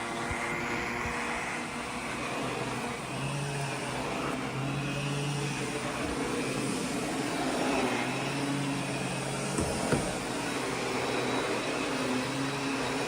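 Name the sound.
Miele S8 vacuum cleaner running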